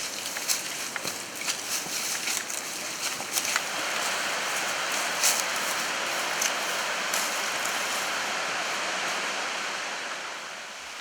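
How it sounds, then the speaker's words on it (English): Steady rushing water roars continuously at close range, a dense broadband wash of a series of waterfalls pouring down a massive granite rock surface, with no voices. "a series of waterfalls that rush down the massive granite rock surface"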